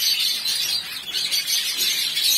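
Pet lovebirds, budgies, cockatiels and finches in a bird shop fill the air with a steady, dense chorus of high chirps and tweets that overlap continuously, close and fairly loud, with no talking.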